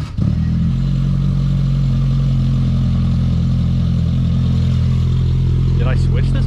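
A Pontiac Phoenix budget build's engine running through a newly fitted Magnaflow muffler gives a steady, loud, deep exhaust drone that holds throughout, close by.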